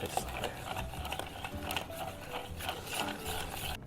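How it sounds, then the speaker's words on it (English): Ice clinking and rattling as a sweet vermouth cocktail is stirred in a mixing glass, a steady busy patter of small clicks close to the microphone, with no talk over it. "So we're just going to stir this down for dilution and to chill it down a little bit."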